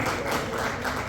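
Applause from an audience at a Hindi book launch and tribute event for a singer's 101st birth anniversary, a steady broadband wash of clapping filling the moment without pause.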